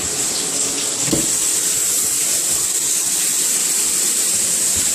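Steady running water pours from a bathtub tap, a continuous broadband hiss at an even level throughout.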